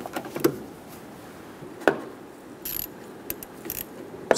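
Ratchet snugging down the negative battery terminal on a 2014-2018 Chevrolet Silverado 1500 5.3L, a few sharp, close clicks spaced irregularly over a low mechanical background.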